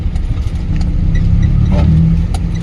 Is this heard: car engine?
yes